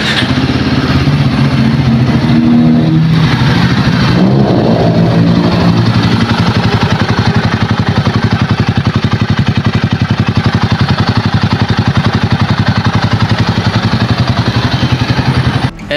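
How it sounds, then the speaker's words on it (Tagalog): Steady exhaust note of a 2024 Royal Enfield Guerrilla 450 roadster idling, a loud, even low thrum with a slight revving swell early on, running continuously without talk. "At ito po ang tunog ng kanyang exhaust muffler."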